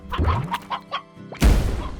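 A game chicken in a slime-ranching world clucks several times in quick, choppy bursts, followed by a sudden loud thwack or crash near the end.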